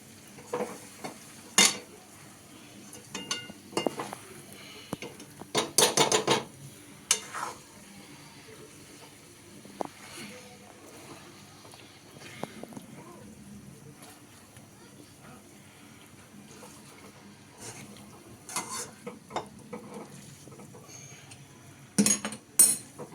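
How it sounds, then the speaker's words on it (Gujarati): Cooked pasta stirred through gravy in a pan with a utensil, giving intermittent scraping and clinking bursts with a faint sizzle between them; a voice is heard in the background. "હવે આપણે સરસ મજાના પાસ્તાને હલાવી લેવાના છે."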